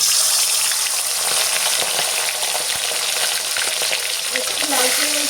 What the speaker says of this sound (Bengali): এবারে আমি যে মাছগুলো লবণ হলুদ মাখিয়ে রেখেছিলাম, এক এক করে মাছগুলো আমি ভেজে নেব।